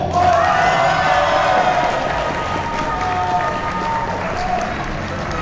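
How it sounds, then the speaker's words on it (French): Loud, sustained applause from a big audience at a boxing gala after a unanimous judges' decision, dense clapping mixed with cheers and shouts that holds steady before easing slightly. "c'est les applaudissements"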